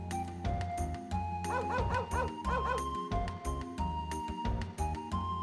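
A dog in the PS1 game Wild Arms yips and barks repeatedly in quick bursts over busy game music, fairly loud and close.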